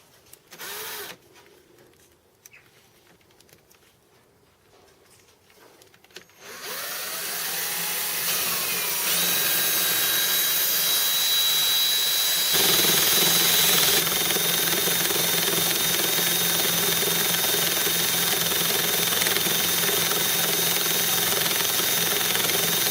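A homemade Gingery milling machine takes metal off a cast spindle head with a boring bar: after quiet handling sounds the motor starts, then a loud continuous whining cut grows steadier and harsher, with no talk.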